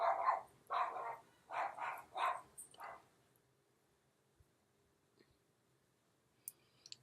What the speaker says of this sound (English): my dogs go crazy when anybody comes home